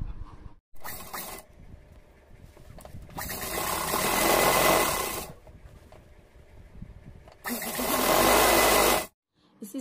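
Sewing machine stitching net fabric onto a lining for a small Navratri lehenga, running in two long loud bursts with quieter mechanical pauses between them.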